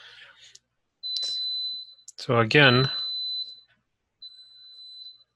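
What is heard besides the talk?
electronic beeping, like a smoke detector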